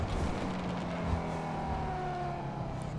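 Banshee sports car in GTA 5 giving raspy, high-pitched engine blips on downshifts, a short loud burst of rough revving that settles into a steady drone.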